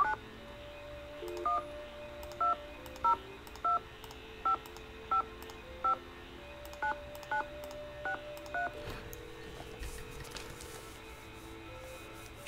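Telephone keypad tones beep one after another, a steady series of short evenly spaced dialing notes heard close and clear over a faint room hiss, followed by a soft click and quiet background.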